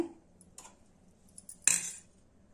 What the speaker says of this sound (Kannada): ಇಲ್ಲಿ ನೋಡ್ರಿ ಈಗ ಒಂದು ಬಾಣಲಿ ಇಟ್ಟಿನಿ ಒಲೆ ಮೇಲೆ.